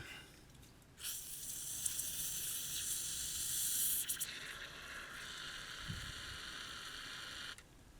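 Aerosol spray can hissing onto an old Victa VS19 straight-shaft strimmer carburettor, a steady close spray lasting several seconds that stops, with a short thud partway through.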